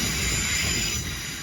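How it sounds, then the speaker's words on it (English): A London Northwestern Railway passenger train runs past at Stone, a loud, close, continuous rumble of wheels on rail with a high metallic whine over it. "there goes the late running 11:57 London North Western Railway service to Crewe"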